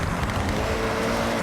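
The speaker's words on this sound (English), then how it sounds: "You can hear the engine has more power." A turbocharged car engine pulls hard under acceleration during a rally-style drive in Forza Horizon 6, a steady loud drone with no pauses across the short stretch.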